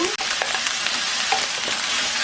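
Button mushrooms with onion, peppers and paprika stir-fried in a pan, a close, steady sizzle with light scraping strokes from the utensil, no voices.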